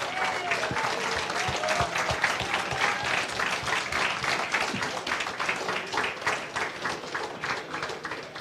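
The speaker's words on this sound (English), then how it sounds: "they deserve a huge applause and a huge cheer from all of us" Sustained applause from a crowd at an Othello world championship prize ceremony in Belgium, dense clapping that holds steady throughout, with faint voices and cheering mixed underneath.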